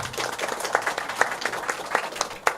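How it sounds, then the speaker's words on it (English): Scattered applause from an audience at a gathering for a national council and youth meeting, moderately loud with irregular claps throughout. "So I applaud my friend"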